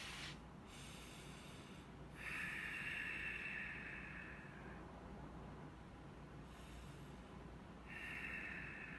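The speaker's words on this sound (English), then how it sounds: "that's me actually stopping to breathe" Slow, heavy breaths come and go in long rhythmic cycles, close and fairly quiet, with hissy inhales over a low rumble.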